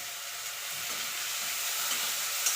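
Thinly sliced banana stem fries in a pan with a steady, even sizzle that carries on throughout at moderate loudness, with no talking.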